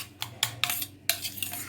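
A spoon clinks and scrapes against a bowl, mixing omelette batter with coriander, chilli powder, salt and masala in a few quick close strokes.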